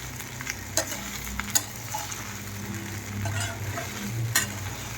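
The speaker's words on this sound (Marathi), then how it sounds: "आता आपण कढईमध्ये टाकतोय शाबू आणि शेंगदाण्याचं कूट मिक्स केलेलं मिक्सर. आता हे टाकल्यानंतर व्यवस्थित असं हलवून घ्यायचं." A sabudana and peanut powder mixture is being stirred in a kadhai. Scraping spoon strokes with occasional sharp clinks against the pan sit over a continuous soft sizzle, close and moderately loud.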